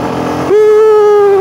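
A CF Moto 150 NK motorcycle engine switches to sport mode, the tone shifting abruptly to a loud, steady, buzzing idle close to the microphone.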